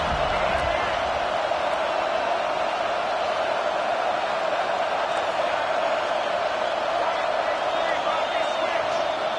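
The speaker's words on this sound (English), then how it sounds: "Decibels rising as the crowd gets behind this defense on third down" A football stadium crowd roars steadily behind the defense on a third down, a loud, dense and continuous wall of cheering and noise that holds for the whole stretch without a break.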